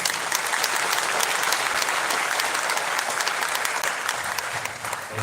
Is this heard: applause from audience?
yes